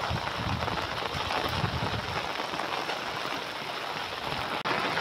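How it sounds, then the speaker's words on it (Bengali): Heavy monsoon rain pours down steadily over a river during a fishing trip, a dense continuous hiss close by with no letup. "খুব জোর বৃষ্টি হচ্ছে বন্ধুরা দেখুন।"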